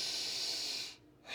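A slow, airy breath during a yoga session for hips and back, heard close as a soft hissing exhale that fades into a brief quiet gap before the next breath begins.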